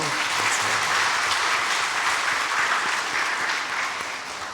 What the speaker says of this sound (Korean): 우리 한번 박수 한번 할까요?